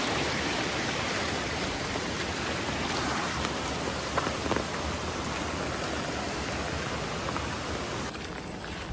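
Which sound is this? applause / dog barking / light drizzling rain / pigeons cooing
light drizzling rain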